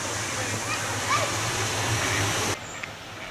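Water pours steadily at Forge Dam in Sheffield, a continuous close rushing that drops away abruptly near the end, with faint outdoor background.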